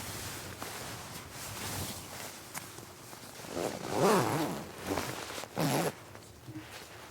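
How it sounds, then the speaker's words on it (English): A Western Mountaineering Lynx MF sleeping bag zipper is pulled in several short, close zips separated by pauses, with soft fabric rustling between them and no talk. "Then I pull the zipper back up, starting on the outside and then later on pulling the inside zipper"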